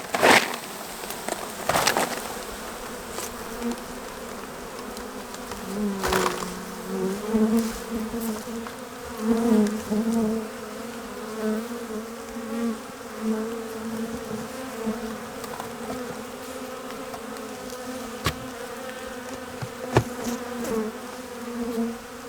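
Steady buzzing of a swarm of honeybees, a dense continuous drone with a few individual insects passing close by, no talking.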